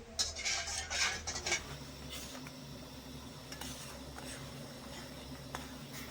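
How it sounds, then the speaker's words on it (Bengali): Metal utensil scraping and clinking against a pan of melting sugar syrup in quick strokes early on, then quieter stirring over a low cooking hum; no one speaks. "নেড়ে ছেড়ে ভালো করে চিনিগুলো একটু গলিয়ে নেবো"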